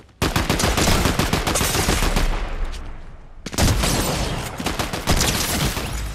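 Rapid bursts of shotgun fire in the video game Fortnite, loud and dense, with a brief lull near the middle before the shooting resumes just as heavily.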